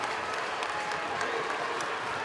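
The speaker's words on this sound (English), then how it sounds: "the crowd erupts across the way" A crowd at a Westborough vs Melrose MIAA Division 2 semifinal volleyball game roars with steady cheering and applause after a 24-all tie, loud and sustained throughout without a break.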